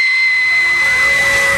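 An Aztec death whistle gives a shrill, steady, piercing tone laced with breathy hiss, sustained loudly for the whole short burst with no pauses.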